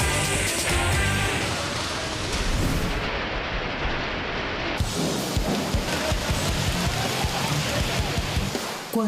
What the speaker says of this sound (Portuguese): Olha o nível da chuva de pedra.